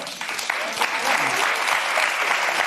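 A crowd clapping steadily in a dense, continuous round of applause, building slightly and holding at moderate loudness, with a voice talking faintly underneath.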